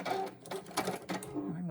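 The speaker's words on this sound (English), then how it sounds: "I'm going to sew real slow." A sewing machine stitching slowly across a seam, its uneven mechanical whirring broken by short pauses, with a person talking over it.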